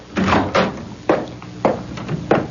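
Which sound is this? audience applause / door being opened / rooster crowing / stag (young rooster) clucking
door being opened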